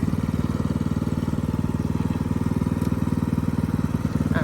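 A riding lawn mower engine with Y-shaped blades chugs steadily with a rapid, even pulse, throttle set low, running close by at a constant rumbling pace with a faint rattle.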